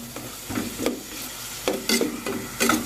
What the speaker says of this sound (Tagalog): Ilagay ko na yung chicken